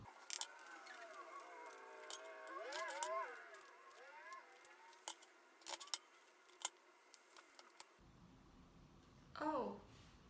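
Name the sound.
shuffling tarot cards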